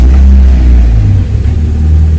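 A Miata engine with an intake leak runs loud and close with a deep, steady rumble and slight revving, the idle sounding rough and uneven.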